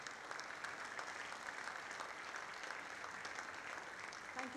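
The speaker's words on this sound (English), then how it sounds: "Can we have another huge round of applause for Sir?" An audience at a university design week inauguration ceremony applauds a speech with steady, even clapping from many hands, heard faintly and from a distance.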